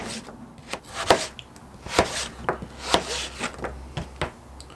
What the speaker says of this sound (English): Cutting these about 1 centimetre thick.